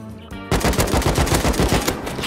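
Rapid automatic AK rifle gunfire in the survival game Rust, a loud, close burst of evenly spaced shots after a brief quieter moment, with no talk over it.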